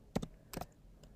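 A few quick keystrokes tapped on a computer keyboard, in two short clusters and then a single tap, close but quiet, with no talking.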